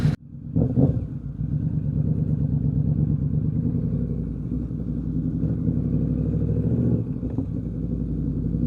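An old machine that had been left abandoned idles after a hard start, its engine running close up with a steady low rumble and rhythmic clatter, with a brief rev near the start.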